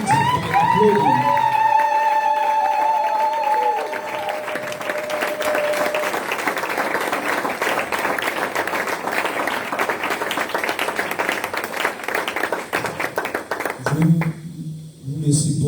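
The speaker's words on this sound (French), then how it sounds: "let us manifest it by applauding." Applause from a church congregation at a sermon fills most of the stretch as steady, dense clapping; a sung or sustained tone opens it, and the clapping thins out near the end.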